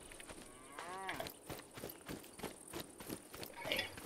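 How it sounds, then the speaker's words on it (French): Cows lowing in the open countryside of the shooter game Sniper Ghost Warrior 3, a drawn-out moo rising near the one-second mark amid soft footsteps and ambient game sound, moderately close. "Il y a des petites vaches, des petites vaches."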